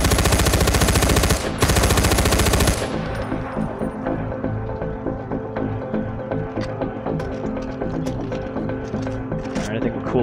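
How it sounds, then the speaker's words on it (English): Rapid machine gun fire from the video game Far Cry 4 rattles in dense, loud continuous bursts, then gives way to scattered game sounds while someone talks over it. "I'm just fucking shooting in this direction"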